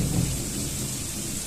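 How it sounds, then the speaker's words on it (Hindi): Deep rumbling thunder rolling over steady heavy rain during a flood, a continuous low roar filling the whole stretch without voices. "सुनाता कैसे बादल गरजता"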